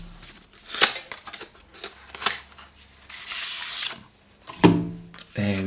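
The plastic pull tab peeled off the back of an iPhone 12 case, heard as a few close rubbing and crinkling rasps with brief sharp clicks, alone and close by.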